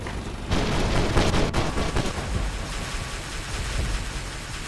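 Robots exchange gunfire in War Robots, a dense crackling volley of rapid shots that peaks early and then continues as a steady noisy barrage of battle sound, with no voices.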